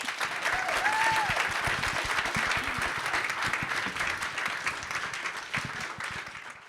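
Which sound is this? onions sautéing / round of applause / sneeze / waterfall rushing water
round of applause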